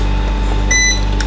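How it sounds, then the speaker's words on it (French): A home ice machine runs with a loud, steady mechanical hum and drone, with a brief high tonal whine partway through. "machine à glaçons qui fait un peu de bruit."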